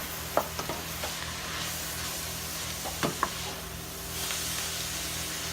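Food is stirred in a pot on the stove, with a few clicks and scrapes of the spoon against the pot over a soft, steady sizzle and hiss, close by and with no talk.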